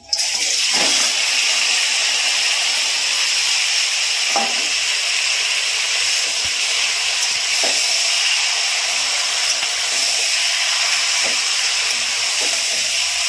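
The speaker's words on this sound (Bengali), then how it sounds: "এবারে আমি ওপর থেকে এই ম্যারিনেট করা মাংসটা ঢেলে দিচ্ছি।" Marinated mutton pours into a hot pan for a Bengali-style mutton curry and sizzles in a steady frying hiss, with occasional stirring taps and pops across the whole stretch.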